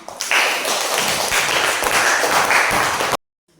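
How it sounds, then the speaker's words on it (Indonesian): Classroom applause: a dense burst of many hands clapping together, starting abruptly, holding steady and fairly loud for about three seconds, then cutting off into silence. "Bagus tepuk tangannya."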